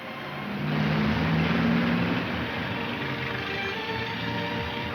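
A taxi car accelerates to follow another car in a 1942 crime serial, its engine rising to a loud, sustained hum, then settling into a steady drive.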